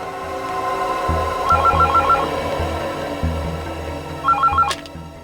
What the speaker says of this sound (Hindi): ये किसका फोन आ गया?